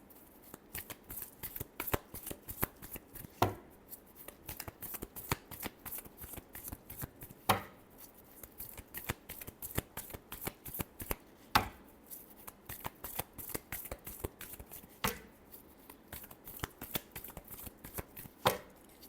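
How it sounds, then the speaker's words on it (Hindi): Tarot cards are shuffled steadily for a long stretch, a close, quiet run of riffling and flicking with sharper slaps every few seconds and no voice. "last shuffle"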